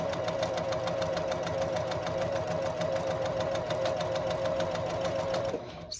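A sewing machine runs steadily, chain-stitching the seams of an Ohio star quilt block. Its rapid, even whirring is close and continuous before it slows and stops near the end.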